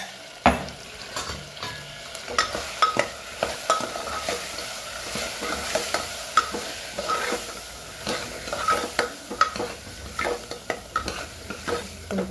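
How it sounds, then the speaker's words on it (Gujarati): Kashmiri chilli, hot chilli, coriander-cumin powder and salt are stirred into a sizzling pan, a low frying hiss under frequent clinks and scrapes of a spoon working the mixture, near and without speech. "કાશ્મીરી મરચું, તીખું મરચું, ધાણા જીરું, મીઠું નાખીને સરસ મિક્સ કરી લઈએ."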